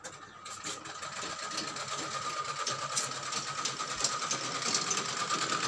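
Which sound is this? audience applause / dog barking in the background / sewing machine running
sewing machine running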